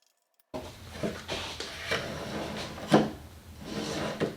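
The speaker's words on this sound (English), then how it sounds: "I'm going to pull the drawer slides out" Undermount drawer slides being pulled out of a cabinet drawer during installation, with soft rubbing glides and a few light knocks and clicks, close and quiet.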